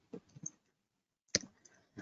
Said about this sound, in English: And then I click on OK.